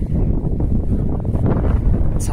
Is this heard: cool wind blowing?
yes